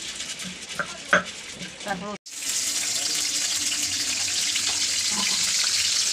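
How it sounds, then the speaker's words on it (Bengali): Water pours steadily from a pot of boiled taro in a home kitchen, a continuous splashing drain that follows a few clinks of handling and continues loud and close to the end. "কচুটাকে সিদ্ধ করে জল ঝাচ্ছে"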